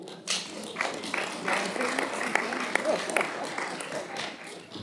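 Scattered applause at a Montreuil municipal council meeting after an election result, uneven clapping rising and falling for several seconds with voices murmuring alongside.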